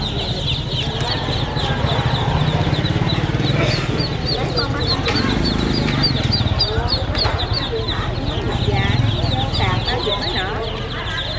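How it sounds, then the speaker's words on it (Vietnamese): Black ducks at a Vietnamese market quack and chatter continuously amid loud, dense market bustle and people talking. "Này vịt đen."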